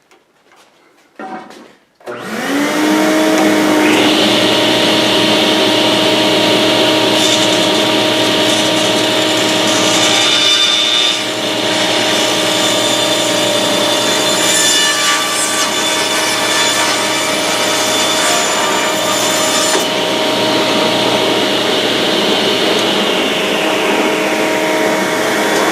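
A power saw runs continuously and loudly while cutting 45-degree angles for black iron pipe shelves, its steady high whine and grinding rasp starting after a brief spin-up and holding for over twenty seconds.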